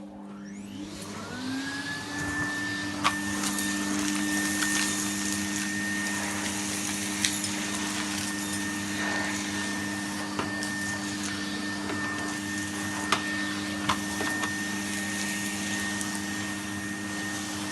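A Hoover vacuum cleaner runs alone at a steady, close drone after a rising start-up whine, with faint clicks and small knocks now and then.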